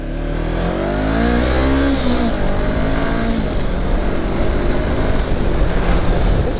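A motorcycle touring on Route 40 near Oklahoma City accelerates on the highway, its engine note rising steadily under heavy, continuous wind roar, loud and close throughout.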